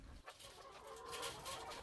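Chickens clucking in a poultry yard, a short, faint burst of busy clucks and rustling with no voices over it.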